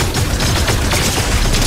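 SMG fire in the Fortnite video game, a dense, loud, rapid burst of shots rattling steadily and continuously from start to finish, with no voices.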